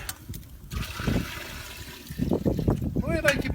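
Water is poured into a small cooking pot holding potatoes and cabbage during outdoor cooking without electricity or gas, a splashing, trickling flow that comes and goes while a person talks over it.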